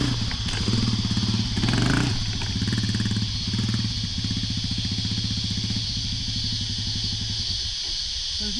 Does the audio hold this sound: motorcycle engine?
yes